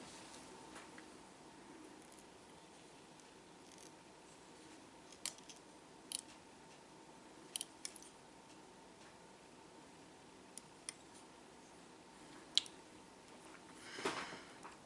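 Scissors snip fly-tying material at a vise, giving a scattering of faint, sharp clicks spread through a quiet room, with a slightly louder rustle near the end and no talking.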